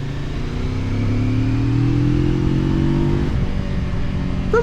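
A QJ Motor SRT 450 RX adventure motorcycle engine accelerates during a road ride, its steady drone rising smoothly in pitch over several seconds, close and continuous, with no talk over it.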